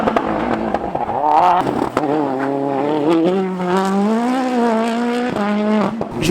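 Rally cars attack a hairpin bend at a live rally stage, engines revving and climbing in pitch as they power through, loud and close, with a faint brief skid, no voices.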